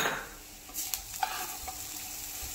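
A spoon stirs a jaggery mixture in a pan as the jaggery melts, giving soft scraping strokes over a faint background sizzle; quiet and close, with no talking.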